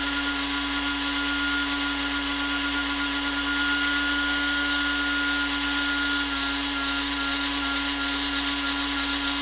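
A grinding stone shapes foam with a steady, continuous high whine and hiss, a constant motor tone holding at even loudness throughout with no pauses or voices.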